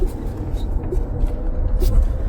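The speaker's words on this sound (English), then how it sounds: "Oh, come on with this traffic, people." Road traffic heard from inside a vehicle: a low, constant engine and tyre rumble with faint passing cars, plus bits of muffled talk.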